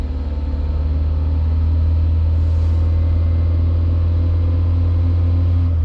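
A car engine runs at a steady 2500 rpm during a battery and charging test, giving a constant, loud, close low drone with no changes in pitch.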